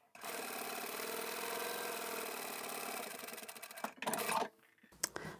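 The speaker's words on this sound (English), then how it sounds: "We're just going to go back to the machine and stitch straight along the top there" A sewing machine runs a long straight stitch along the top edge of a beginner tote bag, a steady mechanical whirr for several seconds that stops, then a few short bursts and clicks as the machine is adjusted.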